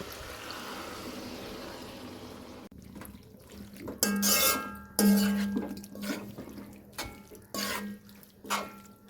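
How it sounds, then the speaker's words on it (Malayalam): Water used to rinse a marinade pan is poured into liver cooking for a Kerala-style roast, heard after a few seconds of faint hiss as several splashing, gurgling bursts of varying loudness. "ലിവർ കുഴച്ച് വെച്ചിരുന്ന ചട്ടിയിൽ അരപ്പൊക്കെ കഴുകി ആ വെള്ളം മാത്രം ഇച്ചിരി ഒഴിച്ചു കൊടുക്കാം"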